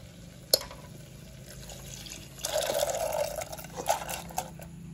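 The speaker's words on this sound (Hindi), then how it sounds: "अब इसमें उबला हुआ चना डालेंगे पानी सहित।" Boiled black chickpeas and their cooking water are poured into a pan, giving a faint splashing, gurgling pour that swells midway and ends with a few drips and light clinks, near and soft.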